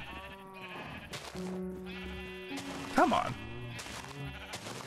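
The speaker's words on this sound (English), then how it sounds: "stupid sheep." Sheep in the video game Minecraft bleat repeatedly, their wavering calls overlapping one another, while a player talks over the top and one louder bleat stands out near the middle.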